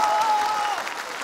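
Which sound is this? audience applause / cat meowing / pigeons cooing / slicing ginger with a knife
audience applause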